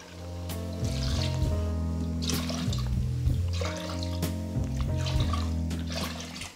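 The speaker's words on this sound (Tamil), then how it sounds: "அப்போ நான் வந்து 5 கப்பு வந்து தண்ணி வைக்கிறேன்." Water poured in cupfuls into a pressure cooker of quail biryani in a home kitchen, a continuous splashing trickle interrupted by short breaks between pours, with a low background hum.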